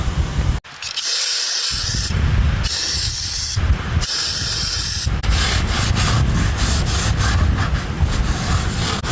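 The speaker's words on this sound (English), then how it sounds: "I'm going to spray this around the area with some brake parts cleaner" Loud bursts of brake parts cleaner aerosol spray hiss close by, several long blasts with short pauses between them, no talking.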